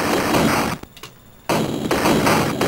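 Gunfire in the video game Gatecrasher, loud dense bursts of shots with a brief gap of near silence in the middle, close and harsh.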